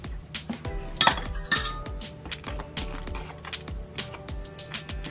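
Ingredients for eggplant Parmesan are stirred in a bowl, a quick run of bright clinks and taps of a utensil against the dish, close and busy, with no talk.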